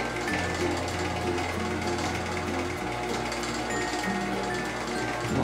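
Electric mixer running at low speed while beating a Nutella mousse, a continuous steady whirring and rattling drone, close and fairly loud throughout with no pauses.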